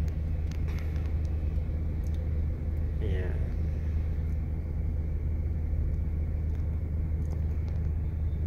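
Heavy traffic on Makati Avenue in Makati, heard from inside a car, gives a steady low engine and road rumble throughout as someone talks over it.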